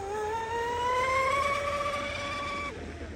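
A Proboat Geico Zelos Twin 36 RC speedboat converted to a single motor makes a fast run, its high motor whine rising in pitch over about three seconds and then cutting off.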